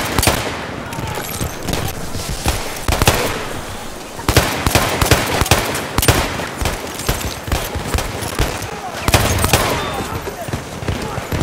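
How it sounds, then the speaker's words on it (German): Dense rapid gunfire from a World War I battlefield in Battlefield 1, with machine gun bursts and scattered shots overlapping continuously, loud and close, with distant shouting voices mixed underneath. "Maschinengewehr!"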